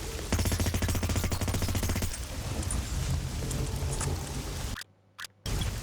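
Gunfire in Hitman Blood Money from an SMG, a rapid, loud burst of automatic shots for about two seconds, then a chaotic rattle and a brief drop to near silence.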